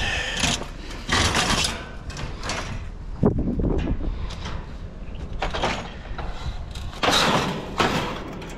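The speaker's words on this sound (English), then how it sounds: "We'll start off with a couple screen doors." Long aluminum-extrusion screen doors being handled and slid, a series of loud scraping slides, knocks and one sharp thump, close by and repeated over several seconds.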